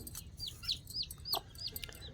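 A village hen clucks in a series of short, rising calls at close range, repeated steadily over a quiet background with no talk.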